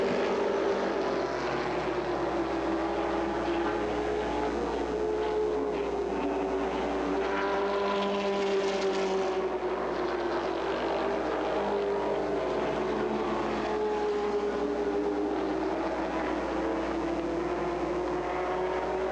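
Late model race cars roar around Peach State Speedway in Jefferson, Georgia, a loud, steady engine drone rising and falling in pitch as the cars circle the track, with no talk.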